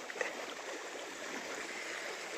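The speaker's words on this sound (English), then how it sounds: "It's the river. It's moving fast because of the storm that passed through here last night." A fast-moving river at a New Hampshire campground, swollen after a storm, gives off a steady, moderate rushing hiss with no talk.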